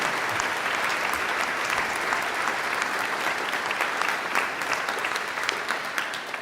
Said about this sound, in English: let's just kind of ask everybody to honor and applaud all of these marvelous achievements